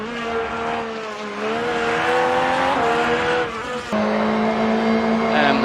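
A rally car's engine roars from onboard during a stage of an Eastern European Rally Championship round, a loud, continuous high-revving drone that rises and falls with gear changes.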